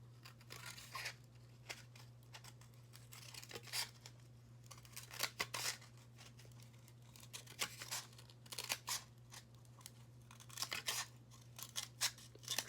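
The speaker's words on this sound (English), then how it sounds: "So I'm going to take my scissors. I'm going to cut down." Scissors snip repeatedly through a styrofoam cup, close and quiet, in irregular bursts of sharp crisp cuts over a steady low hum.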